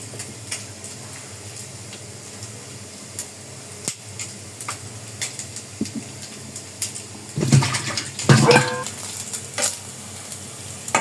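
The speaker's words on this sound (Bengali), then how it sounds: "মুরগির মাংসটা ভাজা হয়ে গেছে, এখন আমি তুলে নিব।" Chicken pieces fry in oil in a kadai, a low sizzle under scattered clinks and scraping of a utensil that grow louder near the end.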